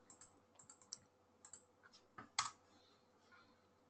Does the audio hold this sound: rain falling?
no